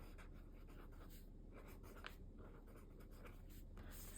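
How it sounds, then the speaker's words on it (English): A pen writing by hand in a journal, with soft continuous scratching strokes and small taps as words are written out, close and quiet with no talk. "so I'll just write that out."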